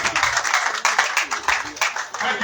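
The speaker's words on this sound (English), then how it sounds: "Let's give her a round of applause." An audience at a college induction and oath-taking ceremony applauds the accountant with sustained, steady clapping from a crowd, while a voice talks over it on a loudspeaker.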